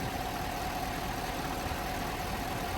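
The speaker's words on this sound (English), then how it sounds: "So this is its first fire up and idle." A Chevy Silverado engine runs at a steady idle on its first start after new lifters were fitted, giving a constant, even rumble with no clear misses.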